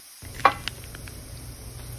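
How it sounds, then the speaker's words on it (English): Ginger caramelizes in olive oil in a pot, starting with a sudden sizzle and a couple of light clinks, then settling into a soft, steady frying hiss. "I will be caramelizing the ginger in my olive oil."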